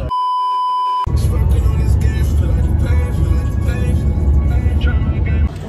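Big van driving on a road during a road trip to Arizona, a steady low rumble of engine and road noise after a short electronic beep, with people talking over it inside the cabin.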